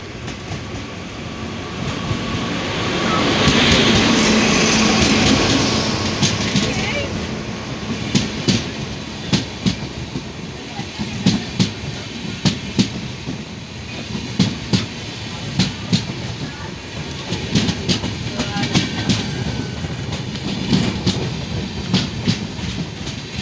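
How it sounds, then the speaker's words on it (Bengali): A train rolls slowly into Gangarampur railway station, a loud rumble swelling early, then steady rhythmic clacks of wheels over rail joints repeating at a slow, even pace for a long stretch. "ভালো লাগছে, ট্রেনটে ধীরে ধীরে আসছে"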